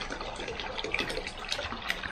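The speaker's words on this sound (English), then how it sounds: "I'm actually just going to pour it in here and give it a squish." Hot water and white vinegar pour into a container for cleaning a Thetford toilet cassette, with a steady splashing, gushing stream that runs close and continuous for a couple of seconds and has no talking over it.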